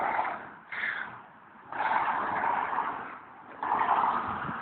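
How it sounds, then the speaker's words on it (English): Steady stream of cars passing on a busy main road, the A47, a continuous roadside rush of tyre and engine noise that swells and fades as vehicles go by, close and fairly loud with no voices. "There's so many cars going past."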